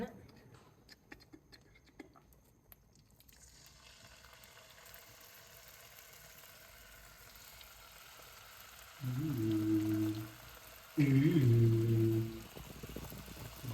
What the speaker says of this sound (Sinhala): දැන් මෙහෙම රත් වෙච්ච තෙල් එකට චිකන් කෑලි දෙක දාගන්න